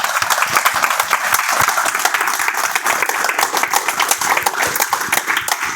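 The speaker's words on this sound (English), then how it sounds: "can we give a huge round of applause" An audience at a speaking-club educational session applauds contestants coming on stage. Loud, steady clapping holds at an even intensity for several seconds.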